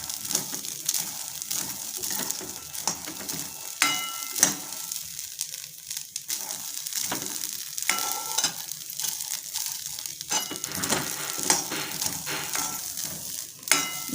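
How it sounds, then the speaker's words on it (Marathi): Green chickpeas (harbhara) roast in a pan, giving a steady sizzle with repeated scraping and stirring strokes, close and moderately loud, with no talking. "भाजत या लागले, थोडंसं तेल घालते मी."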